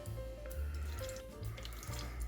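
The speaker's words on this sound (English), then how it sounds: "And you gotta take it and add water, just enough to cover the pork itself." Water running from a tap into a pot of pork belly with wine and soy sauce, a steady close gush with a rising, filling tone, no talking over it.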